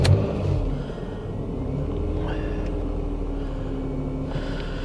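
A car engine runs at a low, steady idle rumble close by as the car reverses out of a driveway, with no speech.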